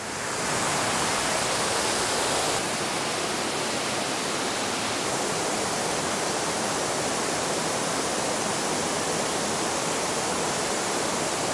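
A waterfall in Bali roars as a steady, dense rush of falling water, loud and unbroken throughout with no voices.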